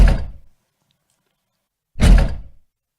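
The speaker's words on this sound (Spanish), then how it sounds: "el sonido de la puerta de mi casa de metal cerrándose y con un poco de compresión" A metal house door closing twice, each a heavy, compressed and equalized thump with a short decay, separated by about a second and a half of silence.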